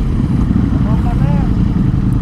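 Ducati Multistrada V4 motorcycle with its catalytic converter removed, engine running with a steady loud low rumble throughout, a few faint higher tones passing over it near the middle.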